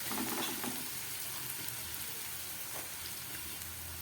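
Chopped onion fries quietly in a pan for pea ghugni, a soft, steady hiss and crackle of oil with faint stirring, low in level and continuous.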